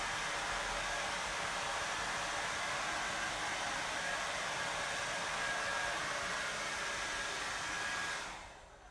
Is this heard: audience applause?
no